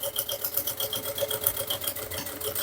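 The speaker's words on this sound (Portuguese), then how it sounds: "Aqui é só a costura reta normal mesmo." A sewing machine runs a straight seam on a tartan backpack with a rapid, even needle rhythm, its close mechanical whir and clatter steady throughout.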